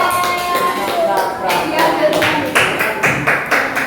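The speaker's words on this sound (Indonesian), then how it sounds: "Beri tepuk tangan kelompok dua." A classroom group claps for group two, a burst of quick uneven hand claps from several students, close and fairly loud, with voices mixed in.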